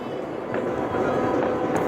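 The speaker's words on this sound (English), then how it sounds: "Launched like a bottle rocket flare." A flare shoots up like a bottle rocket at a New Year's event, giving a steady, rushing hiss that holds for a couple of seconds over faint background crowd noise.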